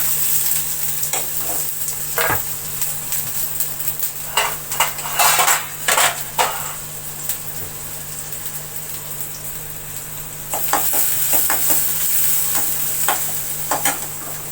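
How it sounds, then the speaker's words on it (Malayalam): Sliced onions sizzle and fry in hot coconut oil in a pan, a loud steady hiss with a metal spoon clinking and scraping against the pan at intervals, close up, with no talking. "നമുക്ക് ആ സബോള ഇട്ട് കൊടുക്കാം."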